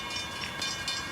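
Train passing through a small Georgia town, a brief steady rumble and rolling rail noise heard at moderate distance with no voices.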